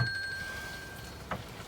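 A phone timer rings in the galley of a narrowboat while seafood paella is cooked, a steady electronic tone held for over a second, then a brief louder chirp, with no talk.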